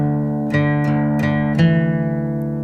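An acoustic guitar in drop D tuning plays the first bar of a tune at slow tempo: four distinct plucked notes, close and clear, each ringing into the next before a final sustained tone.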